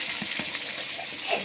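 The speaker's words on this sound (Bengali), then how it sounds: "এটাকে মাছটাকে ভাজা করতে হবে।" Fish frying in a large wok over a gentle wood fire, giving a steady close sizzle with faint crackles and a few soft stirring knocks.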